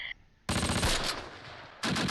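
Loud bursts of machine gun fire in the Close Combat World War II strategy game, 1944 Romagny battle, with a sustained dense rattling volley followed by a second burst starting abruptly.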